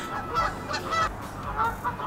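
Several geese honk by a lake in a run of hoarse, nasal calls, fairly faint and set against open outdoor background noise, with no talking.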